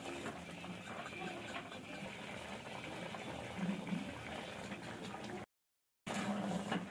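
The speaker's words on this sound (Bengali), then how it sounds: "ঝোলটা ফুটে উঠেছে," Eggplant curry broth bubbling at a low simmer, a faint, steady burble with a few louder pops, cut briefly by a short silence near the end.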